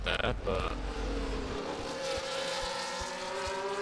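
Formula 1 race cars roaring around the Shanghai circuit in a racing video game, loud sustained engine whine with shifting pitch and a car passing close, under a commentator's voice.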